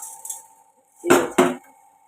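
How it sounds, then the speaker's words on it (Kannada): Washed lentils drop into a cooking pot in two quick metallic clatters close by, after a few light clinks, with quiet between them. "ಪಾತ್ರೆ ಇಟ್ಟಿದ್ದೀನಿ ಇದಕ್ಕೆ ತೊಳೆದಿಟ್ಕೊಂಡಿರುವಂತಹ ಬೇಳೆನ ಹಾಕ್ತಾಯಿದ್ದೀನಿ"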